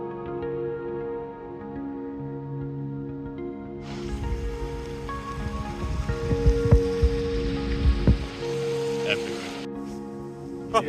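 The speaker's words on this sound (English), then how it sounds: "It's raining." Rain falling at a campsite near Point Reyes, a soft steady patter that swells into a fuller, louder hiss of drops on surfaces partway through, with occasional sharper taps close by.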